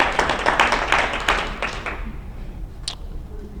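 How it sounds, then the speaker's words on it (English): Scattered clapping from a small group of people fades out over a couple of seconds, individual claps audible at first and thinning to a quiet room with one last faint tap. "Let's give them a round of applause."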